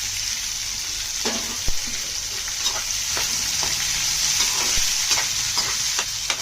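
Spices and curry leaves tempering in hot oil for wheat rava upma, a loud continuous close sizzle with occasional stirring clinks and spatters, no talking.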